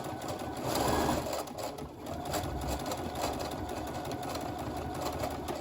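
Close, continuous whir and rapid mechanical chatter from a sewing machine stitching a fabric face mask with elastic, the bobbin running low, steady throughout with a brief swell early on.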